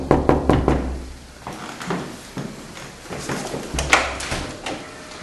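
Sharp knocks rap on a door in quick clusters, a burst of several near the start and another group toward the end, with softer thuds and room sounds between.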